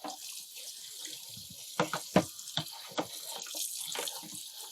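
Water from a tap rinses nitrocellulose cotton held in a strainer. The stream splashes unevenly at close range, with several louder spatters midway and no talking.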